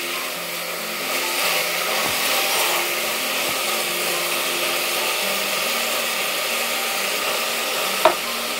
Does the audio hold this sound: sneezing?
no